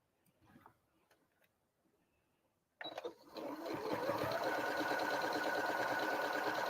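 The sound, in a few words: sewing machine sewing a quilt block along a diagonal line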